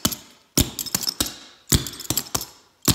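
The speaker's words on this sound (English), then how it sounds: "this one is my clogging shoe, and here it has two taps on both the heel and the toe." Clogging shoe with two nailed-on metal taps on both heel and toe, struck against a hard floor; sharp clacking hits come in quick irregular clusters, loud and close, with no voices.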